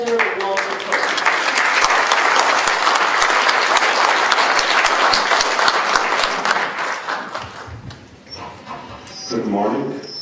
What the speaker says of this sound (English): So let's give a round of applause for Elder Walter Cook.